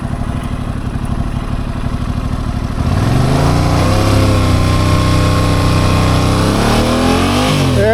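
A motorcycle engine runs steadily at idle before being put in gear, then grows louder with pitch sweeps as it revs and pulls on a hillside, close by and with no talk over it.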